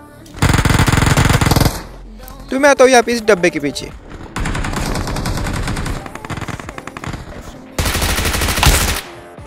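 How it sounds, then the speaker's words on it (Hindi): Automatic gunfire bursts in the BGMI PUBG Mobile battle royale game, loud rapid rattling volleys alternating with someone speaking over the action. "उतने मेरे ऊपर कोई गोली चलाता है"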